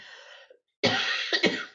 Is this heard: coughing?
yes